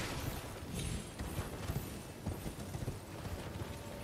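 Horse hooves clip-clop steadily at a riding pace in Elden Ring, on the Cerulean Coast, under a dense ambient game soundscape.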